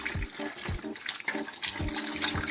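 Chicken bone broth pours into a gumbo pot in a close, splashing stream, with uneven gurgles and sloshes as the liquid lands.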